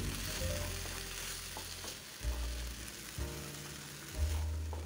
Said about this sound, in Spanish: De igual manera mezclamos, removemos y dejamos sofreír